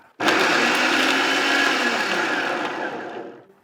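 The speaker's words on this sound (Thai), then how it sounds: "แล้วเราก็กดปั่นได้เลยนะครับ" A food processor chopping pumpkin whirs loudly for about three seconds with a harsh, gritty motor buzz before spinning down and stopping.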